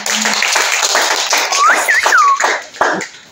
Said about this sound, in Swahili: Mpigie msomaji makofi